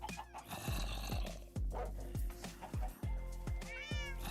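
Minecraft cats let out a run of repeated meows and yowls, fairly faint, over a steady rhythmic thumping backdrop, with a rising chirp near the end.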